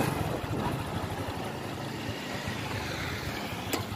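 Nearby motorcycle engine of a Honda Wave Thai 110S running in fourth gear, a steady, moderately loud buzzing drone with slight throttle variation and no one talking.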